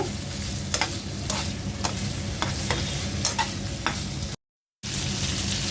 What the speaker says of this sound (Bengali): মিষ্টি কুমড়া ভেজে নিচ্ছি